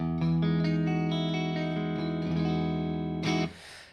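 A sustained electric guitar chord rings out through an amp with EQ, compression and reverb off, a plain, dry tone, then is cut off with a short scrape near the end.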